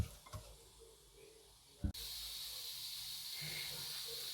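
Chermoula hits hot oil in a pan and bursts into a loud, steady sizzle that continues close and unbroken after a quieter stretch with a few faint clinks.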